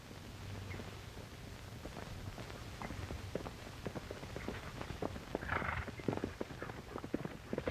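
Horse hooves clop along at a steady walking pace, a continuous run of hollow knocks over a low background rumble.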